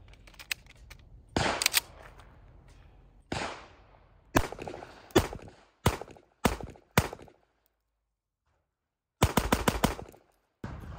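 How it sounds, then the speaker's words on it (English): A Springfield Prodigy 4.25 pistol fitted with a DSC compensator and fire slide release fires a string of sharp, loud close-range shots, a single report then a quick pair, several spaced shots, and a rapid burst near the end. "I haven't shot this gun since I put the DSC comp and the fire slide release,"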